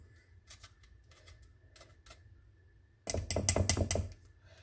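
A whisk beats Danish cream filling in a bowl, first as scattered light taps, then as a close, rapid burst of metallic clicking against the bowl's sides.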